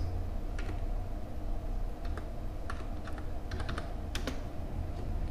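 Typing on a computer keyboard while working on text formatting in Microsoft Word: irregular bursts of key clicks, some clustered quickly, over a steady low room hum, with no talking.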